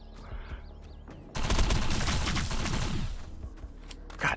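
Rapid automatic weapon fire in the shooter game Defiance, a dense burst of repeated shots lasting about two seconds, loud and close, with brief synthetic tones before and after.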